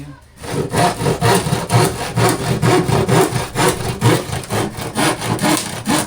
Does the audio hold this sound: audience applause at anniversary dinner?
no